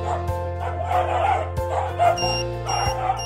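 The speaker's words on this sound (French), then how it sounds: "Quand votre chien aboie," A dog gives several short yips and whimpering barks close by, with a low steady electronic tone running underneath.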